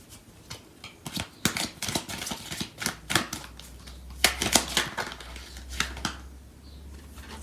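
Tarot cards from a second deck being shuffled, a run of crisp riffling flicks and card snaps close by, with a low hum coming in partway through.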